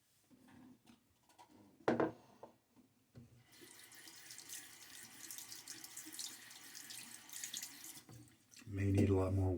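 Tap water runs steadily into a sink for several seconds to rinse a shaving razor, with a few soft knocks before and a louder clatter at the end.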